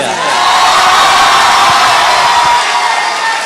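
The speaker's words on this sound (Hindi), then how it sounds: "यार पीछे वालों के लिए बहुत सी तालियां यार," Audience at a mushaira poetry event in a college hall applauding and cheering, a loud sustained wash of crowd noise and clapping that holds steady throughout.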